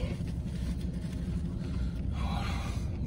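A motorcycle carrying a kid on the back rides past, heard as a low, steady engine rumble at moderate distance. The sound swells slightly over about three seconds.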